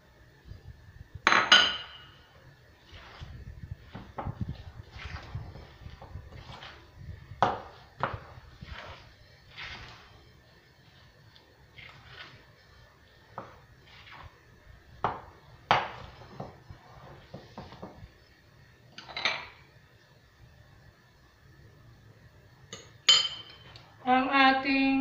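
Utensils clinking against a bowl while a date bar mixture is stirred by hand, with intermittent light metallic taps and scrapes spread over a quiet kitchen background and a few sharper clinks near the end.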